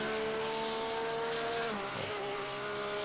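A Porsche 911 GT3 Cup race car in a sim racing game at the Nordschleife holds a steady high engine whine with gear-shift dips, loud and continuous under a broad roar.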